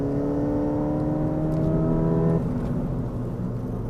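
A Ford Fiesta ST pulling hard at full throttle up a hill in third gear, its engine drone climbing steadily in pitch, then dropping away after about two and a half seconds to a lower, steadier hum.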